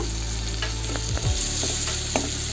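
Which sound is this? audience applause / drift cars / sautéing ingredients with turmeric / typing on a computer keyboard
sautéing ingredients with turmeric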